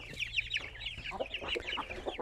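Young Indian game chickens, a mixed brood of growing cockerels and pullets, cluck and chirp repeatedly in quick, overlapping calls, fairly close and alone.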